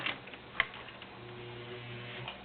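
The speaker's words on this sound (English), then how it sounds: "we are sewing with cam, which is an arrowhead" A vintage Singer 500A Rocketeer Slant-O-Matic sewing machine stitches an arrowhead cam zigzag pattern, giving a faint, steady mechanical whir with a low motor hum and a few soft clicks, with no talking.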